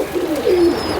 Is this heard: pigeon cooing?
yes